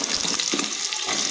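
Vegetables and black cumin seeds sizzle and crackle steadily in hot oil in a pan, a continuous close frying hiss with a few soft stirring scrapes.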